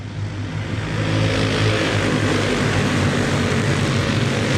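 Racing karts accelerate together at the start of a Maxxis Heavy feature race at Volusia Karting, producing a loud, dense, sustained engine roar. The roar builds quickly and then holds steady as the pack pulls away.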